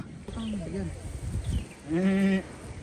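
A young goat at a farm in Doha, Qatar bleats in a loud, wavering cry near the end, with a shorter bleat-like call earlier and people chatting nearby.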